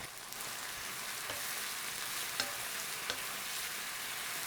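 Chicken stir-fries in a pan with soy sauce, oyster sauce and Shao Xing wine, a steady close sizzle broken by occasional faint scrapes of stirring, with no talking.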